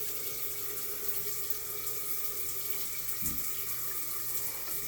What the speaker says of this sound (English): Now we're going to run the shower. Got it on cold first.